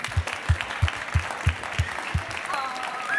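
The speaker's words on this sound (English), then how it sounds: "So I think he deserves a little of an applause as well." A small group on a dive trip claps in a brief round of applause, with a steady rhythmic clapping beat near the microphone and some voices chattering toward the end.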